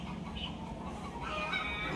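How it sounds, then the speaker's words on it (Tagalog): Several chickens cluck and squawk nearby at a Filipino home, a soft scatter of overlapping calls over low background noise. "Nag-iingayan yung mga manok"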